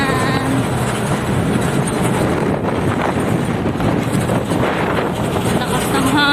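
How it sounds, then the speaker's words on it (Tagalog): Strong wind gusting outdoors in the Philippine countryside, roaring loudly and continuously across the microphone with a rough, buffeting rumble throughout. "Lakas ng hangin."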